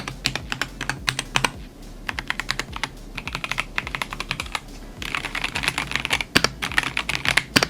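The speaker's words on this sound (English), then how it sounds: "I love quiet keyboards" Rapid typing on a quiet RGB computer keyboard, soft close key clicks in quick bursts with brief pauses between runs, heard alone with no voices.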